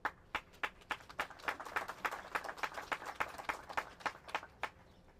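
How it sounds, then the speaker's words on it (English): Sparse clapping from a small audience at a Milwaukee city announcement, individual hand claps ringing out in an uneven rhythm, faint and somewhat distant. "we really want to clap it up for Governor Evers"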